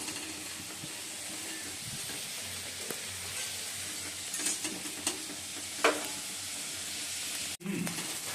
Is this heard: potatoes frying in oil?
yes